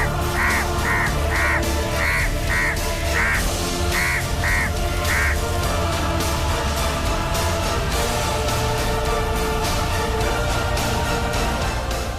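A crow caws nine times in a quick irregular run during the first five seconds, then goes quiet, with a steady noisy background bed throughout and no talk.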